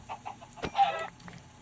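A chicken in Minecraft gives a few short clucks, close and fairly quiet, with brief gaps between them.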